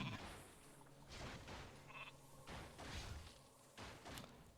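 A clicked sheep unit in Warcraft III bleats in short game sound effects, a quiet wavering cry among soft thumps and whooshes.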